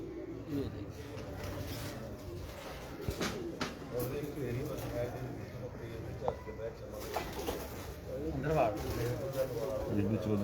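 Pigeons cooing in a rooftop loft, soft repeated coos under someone talking continuously nearby, with occasional clicks and rustles.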